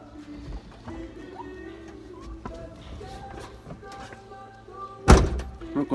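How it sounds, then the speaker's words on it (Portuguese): A door is pushed shut with a single loud, close thunk near the end, after several seconds of quiet indoor shuffling and small knocks. "Fechou a porta."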